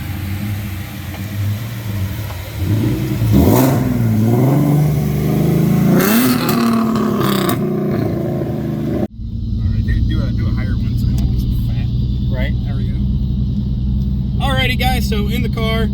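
A Ford Mustang S197 V6 with a turbo kit revs hard with a deep, rising roar, then settles into a steady idle rumble with more revving near the end.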